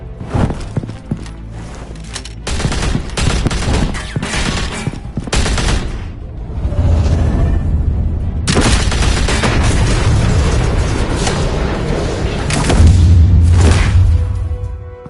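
Sustained gunfire and explosions in the Batman Telltale Series video game: loud bursts of shots, booms and crashes pile up dense and chaotic, with heavy rumbling impacts throughout.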